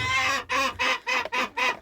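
A hen clucks in a series of five or six short, rhythmic bursts, close and fairly loud, with no talking.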